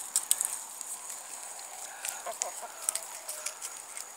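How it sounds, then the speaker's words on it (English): Backyard chickens clucking softly nearby, scattered short clucks and chirps over quiet background, no talk. "Leave the chickens alone."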